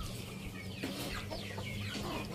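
An Aseel longtail breeding hen clucks softly over steady farmyard background noise, with a few short calls.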